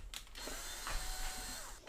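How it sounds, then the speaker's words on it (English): A power drill bores into a plastic motorcycle fender panel in one steady two-second whir, close and moderately quiet, with no talking. "So, kind of center it and you drill and pray."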